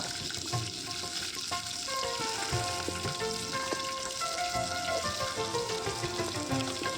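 Dried red chillies and curry leaves with cumin sizzle in hot oil in a pan, a continuous close crackling hiss that stays busy and even throughout.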